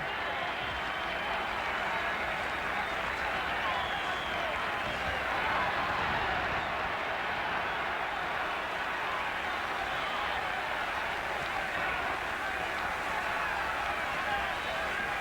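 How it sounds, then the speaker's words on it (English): A large crowd at a televised boxing match, Ray Robinson against Denny Moyer late in round 10, roars and applauds in a steady, dense wash of noise that holds throughout without a break. "A large crowd is applauding."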